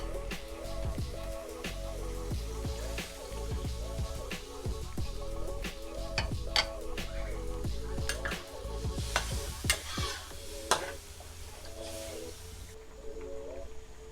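Coconut milk is added to a Thai beef curry in a pot and stirred, with soft bubbling and a steady rhythm of scraping strokes, fairly quiet and close, with no talk.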